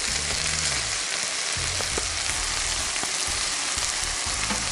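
Large-cut mushrooms frying in a pan for stuffed cabbage filling, a steady close sizzle and crackle that runs throughout with no talking.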